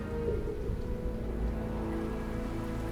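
Steady acid rain pouring down in a prehistoric dinosaur landscape, a dense even hiss of drops with low rumbling underneath, continuous and moderately loud.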